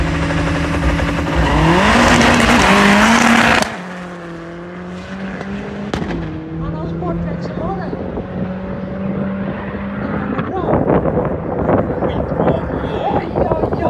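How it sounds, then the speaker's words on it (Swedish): A 700hp Opel Ascona A race car at the Emmaboda strip roars hard under acceleration, its engine note rising loud and close before a gear change drops it into a steady, distant drone with commentary over it. "Så den är snabbare bilen."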